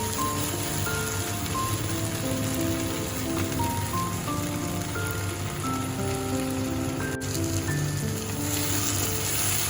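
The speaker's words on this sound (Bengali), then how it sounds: "এটাও 3 মিনিটের মতন একটু মিডিয়াম আঁচ করে এটাকে কষে নিতে হবে" Okra stir-fries in mustard-poppy paste over medium heat, producing a steady, dense crackling sizzle like rain, close and unbroken throughout.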